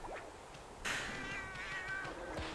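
A cat meows in a drawn-out, wavering call that rises and falls, with a brief short mew just before it and another near the end, close and clear against faint background noise.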